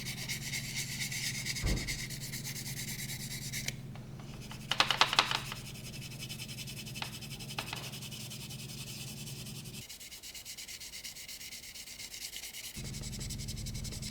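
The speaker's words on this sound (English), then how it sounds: "This included the wet sanding and the main wet sanding process to polish the model." Steady, close rubbing and scraping of fine-grit wet sanding paper against a 1/24 scale model car body, continuous with small shifts in texture and a brief louder scuff midway.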